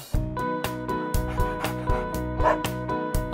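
Regular, evenly spaced dog barks ring out one after another, loud and near, set against a bouncy musical accompaniment.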